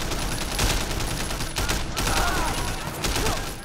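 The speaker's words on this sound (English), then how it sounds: "Back with the assault rifle we go." Assault rifle gunfire in the video game Sleeping Dogs, sustained loud automatic bursts with brief gaps, over dense in-game action noise.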